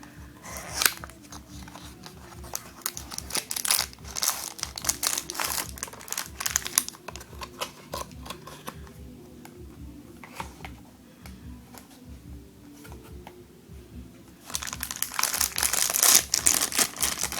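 Paper wrapping around a Yamaha Mio connecting rod kit crinkles and crumples up close as it is unwrapped by hand, with sharp rustling bursts that ease off midway and then return louder near the end, no talking.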